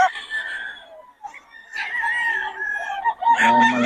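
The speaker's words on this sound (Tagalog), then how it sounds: "Ang daming manok." Roosters crow and hens cluck at a Pangasinan poultry owner's place, several birds calling close by in overlapping bursts, one crow loud and near at the end.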